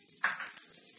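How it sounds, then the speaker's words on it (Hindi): Green chilies, curry leaves and ginger roast in a pan, giving a brief, faint crackling sizzle that swells for a moment and then settles low. "मिर्ची, करी पत्ता, अदरक, इन्हें भी हम थोड़ा सा भून लेते हैं"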